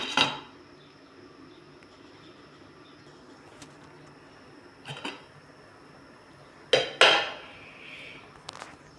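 A lid is set onto a pot of fish soup with tomato and lemongrass on the stove, giving a few clear metallic clanks spaced across the clip with quiet stretches between them.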